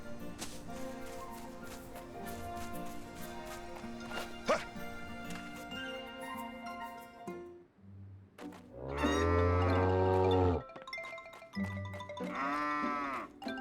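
Cows moo on a farm in the video game Grand Bazaar, two long loud lowing calls in the later half, after a stretch of busy background game music.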